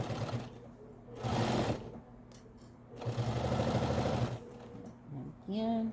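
A sewing machine runs in short bursts, stitching and back stitching through thick layers of a fabric bag with a rapid mechanical whir. A voice speaks between the runs.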